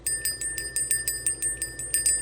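A small ritual bell rung repeatedly in a quick, steady series of bright, sustained tings, about fifteen strikes over two seconds, fairly near and alone without talk.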